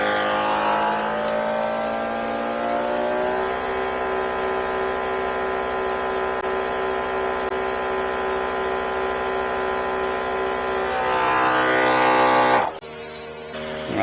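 A 12V portable two-cylinder air compressor pumps with a loud steady buzzing drone, rising slightly in pitch near the end before cutting off abruptly.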